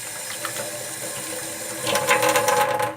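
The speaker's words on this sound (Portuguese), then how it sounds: "Eu tava brincando com meu cachorro, então vamos lavar as mãos." Tap water runs steadily into a sink as hands are washed, then grows louder and more splashy near the end as the hands move under the stream.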